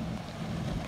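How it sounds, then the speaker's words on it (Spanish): A police motorboat off the beach at South Pointe Park, Miami Beach, as a steady low engine rumble mixed with wind and water noise, fairly close and continuous. "Es una lancha, pero de policía."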